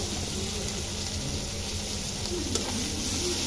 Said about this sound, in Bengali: চিংড়ি মাছগুলো ভালোভাবে ভাজা ভাজা করে নিচ্ছি।